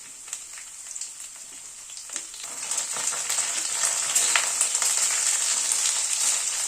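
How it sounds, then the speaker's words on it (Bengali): Potato and cauliflower fry in a pan for an onion-stalk chachchari vegetable dish. A close, steady sizzle with scattered crackles builds louder as the vegetables cook, with no talking. "আলুটা একটু ভেজে নেওয়ার পরে ফুলকপিটা দিয়ে দিলাম।"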